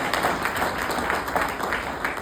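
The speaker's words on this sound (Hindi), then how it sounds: "तो एक शानदार ताली इस ऑर्गेनाइजेशन के लिए होनी चाहिए।" An audience at an organizational event claps continuously, a dense wash of many hands applauding at steady, fairly loud volume without pauses.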